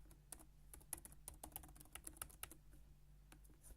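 Typing on a computer keyboard at a desk setup: quick, irregular bursts of light clicks, fairly close and faint, with no talking.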